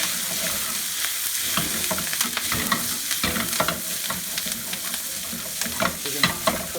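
Bok choy stems and the white parts of scallions, added to garlic and ginger, sizzle and fry in a pan, a steady loud hiss broken by scraping stirs, with no voices.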